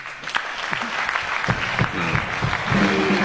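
A church congregation claps together, a dense rhythmic patter that holds steady and swells slightly toward the end, with some voices mixed in underneath.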